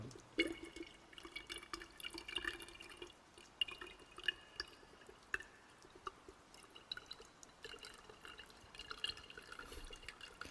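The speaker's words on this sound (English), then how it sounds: "it really does sound like water hitting a coffee pot" Water dripping into a coffee pot, a quiet ASMR-style scene: faint, irregular drips and small splashes repeat steadily over a soft watery background, close and delicate, with no voices.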